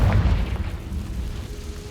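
A Confringo blasting spell bursts in Hogwarts Legacy, one loud boom at the start that quickly fades into a rumbling decay.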